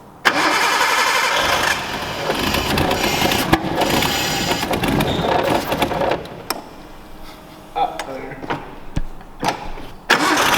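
A Nissan Skyline R32 is cranked loudly, catches and runs roughly for several seconds, then drops away. Faint voices talk in the background as it falls quiet, followed by a few sharp knocks.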